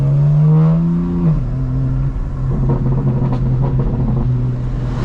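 A 2025 BMW M4 Competition exhaust burbling loud and close, a deep steady drone that drops in pitch early on and then settles into a low, crackling rumble.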